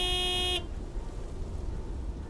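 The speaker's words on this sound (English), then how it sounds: "Honk, honk!" A big white truck's horn in the video game Lake gives one loud, steady honk about half a second long, then cuts off to quiet background rumble.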